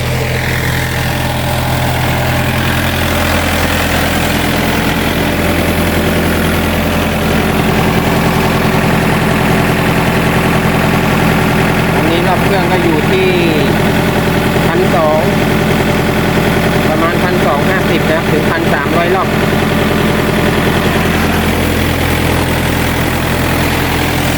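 A Yanmar 45 hp tractor engine drives a water pump through its PTO, a loud, steady low-pitched drone with constant vibration holding for the whole stretch.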